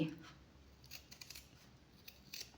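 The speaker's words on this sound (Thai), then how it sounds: "ก็ตัด ตัดริมนะคะ ริมตะเข็บออกเลย" Scissors trim fabric along a seam edge on a trouser hem being finished with feather trim, giving a few quiet, close, crisp snips and soft rubbing in a hushed room.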